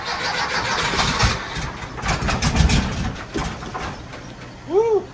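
A 912 four-cylinder engine cranks in uneven, rough bursts that catch and sputter without fully settling, loud and close, with a brief high bird-like chirp near the end.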